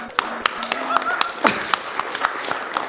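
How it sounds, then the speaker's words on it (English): An audience at a speedrun marathon gives a short burst of clapping and applause that breaks out over a talking voice and quickly thins out. "Applause for Super Pitfall"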